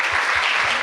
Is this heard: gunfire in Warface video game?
no